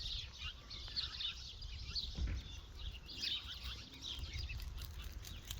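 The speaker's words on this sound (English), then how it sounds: "You can hear the birds chirping." Small birds chirp and tweet continuously outdoors, with quick high calls scattered throughout against a quiet background.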